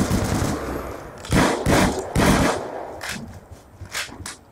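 Automatic gunfire rattles in Call of Duty Black Ops 2 on the Nuketown 2025 map, with loud, close bursts of rapid shots separated by short pauses.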